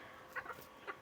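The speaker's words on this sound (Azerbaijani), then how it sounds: "məsələn, bu ən böyük xoruzlardan biridir." A large broiler-type rooster gives a few soft, quick clucks, three faint short calls within a second over a quiet background.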